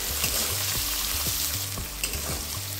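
Onions fry in a little oil with a pinch of salt and turmeric for a low-oil chicken curry, a dense close sizzle broken by regular scraping stirs about twice a second, no voices.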